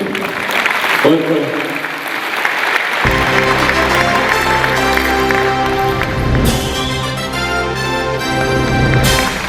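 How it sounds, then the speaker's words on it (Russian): Audience applause at a televised music awards ceremony in Russia, the Muzykalnaya Otkrytka 2016 prize show, starting thin and swelling into steady broadband clapping over loud stage music that continues throughout. "Еще раз ваши аплодисменты"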